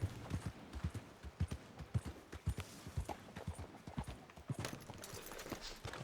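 A horse ridden through the town of Strawberry in Red Dead Redemption 2 gives a steady, rhythmic clip-clop of hooves, fairly quiet and continuous throughout.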